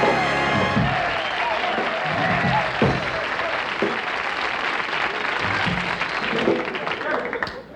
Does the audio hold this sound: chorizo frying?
no